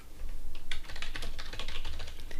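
Rapid clicking of keys on a computer keyboard while a name is typed into a virtual machine snapshot dialog, close and crisp in an irregular burst with no talking.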